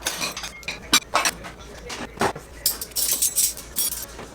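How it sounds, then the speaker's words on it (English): Clean dishes and cutlery clink and clatter in irregular bursts as they are unloaded from a dishwasher and put away in a home kitchen, close and fairly loud with no talking. "So I'm putting all the clean dishes away."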